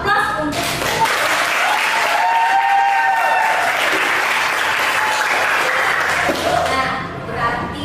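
Students in a classroom give a burst of loud, sustained applause that lasts several seconds before tapering off. A few voices can be heard beneath the clapping.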